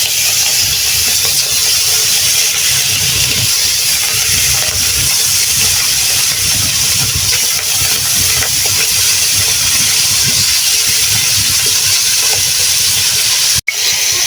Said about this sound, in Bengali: এই পর্যায়ে আমি এর মধ্যে মাছগুলো ভেজে নিব,